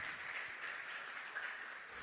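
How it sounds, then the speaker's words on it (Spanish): A church congregation claps after a sermon, a steady, even patter of many hands at moderate distance with no voices over it. "Le damos un aplauso al Señor, aleluya, por su palabra."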